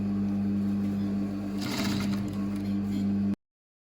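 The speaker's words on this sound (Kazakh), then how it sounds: "Артқа қарай жүргізіп аламыз машинканы." A sewing machine runs continuously and close, stitching a patchwork quilt with a steady motor hum that stops abruptly near the end, with no talking.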